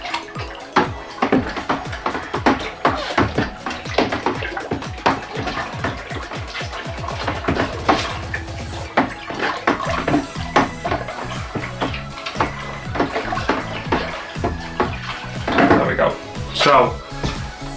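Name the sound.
stirring the stout wort in a brewing pot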